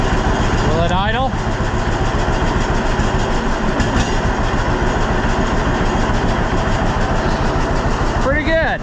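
A neglected John Deere B tractor engine idles steadily and loudly with a rough, rhythmic chug, a brief higher whine or squeal rising near the start and end.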